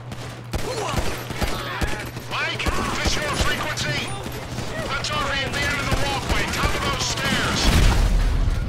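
Gunfire in the video game Grand Theft Auto 5 during a fight with Merryweather troops: dense bursts of shots layered with crackling and a low steady hum, with talk and other game sounds running throughout.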